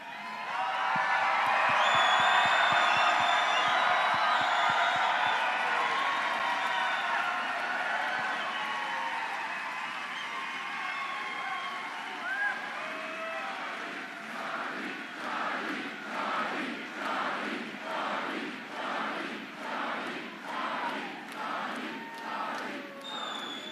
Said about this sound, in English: Let's cheer it up real loud for Charlie.